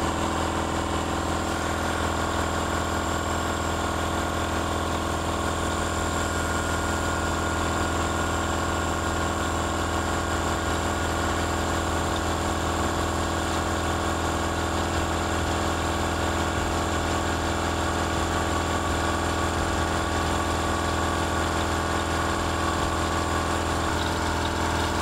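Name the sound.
air compressor running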